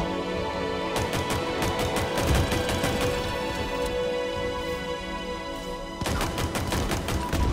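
Sustained gunfire in a Halo video game, with rapid bursts of automatic shots, loud and continuous, a brief lull before a fresh volley near the end, no voices.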